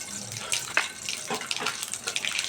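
Nigella seeds drop into hot oil in a pan, starting a fish curry with ridge gourd and potato, and give off a close, steady crackling sizzle throughout.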